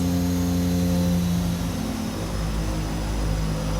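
The steady propeller drone of a Twin Otter seaplane in a flight simulator game, its engine humming loud and constant with a slight dip in pitch midway, alone without voices.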